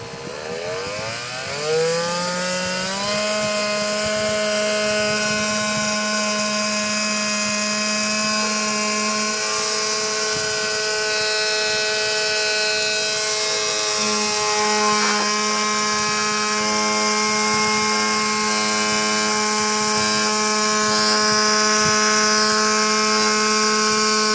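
A 12-volt DC motor spins up to a higher speed and holds there, a loud, steady high-pitched whine with strong tonal hum that rises at the start and then runs continuously, with no voices.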